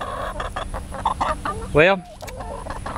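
Chickens cluck in a chicken house, with one louder squawk standing out near the middle over steady flock noise, and someone speaks briefly.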